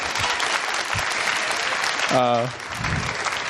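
Steady audience applause fills the whole clip, dense and continuous, with a brief voice cutting through partway.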